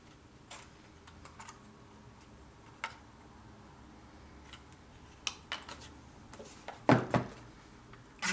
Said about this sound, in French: Ensuite, on peut couper au ciseau.